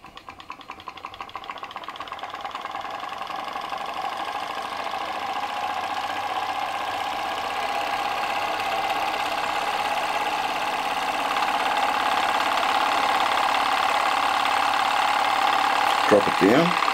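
Solar-powered Stirling engine with piston and flywheel running under load, a steady rapid mechanical whirring and ticking that builds slightly in loudness and holds evenly, ending with a brief clatter.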